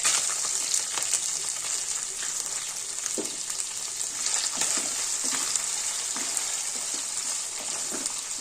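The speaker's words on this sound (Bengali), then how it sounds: "একটু ভালো করে নেড়ে নিই।" Chopped tomato is stirred into a broccoli curry frying in a pan, giving a steady close sizzle with soft scraping stirs throughout and no voices.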